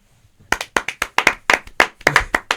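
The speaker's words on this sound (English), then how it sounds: "Everyone give a round of applause to me." A small group claps for a podcast host in a room, with about a dozen sharp, distinct claps in a quick irregular rhythm after a brief quiet start.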